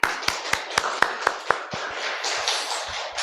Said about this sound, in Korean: 하나님 옆에 영광의 박수 올리겠습니다.